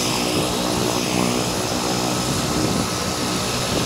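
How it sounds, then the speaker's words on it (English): A propeller plane taxis out for takeoff, its engine drone loud, close and continuous throughout with a steady whine on top and no voices. "It's a short taxi out and takeoff into the beautiful blue sky."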